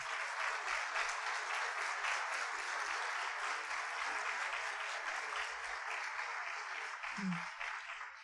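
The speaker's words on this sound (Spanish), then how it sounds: "un fuerte aplauso para don Ángel Sánchez Blanco" Sustained applause from a seated audience at a colloquium on digital money, a dense steady wash of many hands clapping for the full stretch, fairly close and even, ending with a brief low thump.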